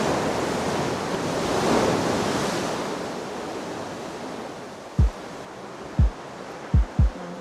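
Surf surging and washing inside La Jolla Sea Cave, a broad continuous roar swelling and fading, with a few sharp low knocks toward the end.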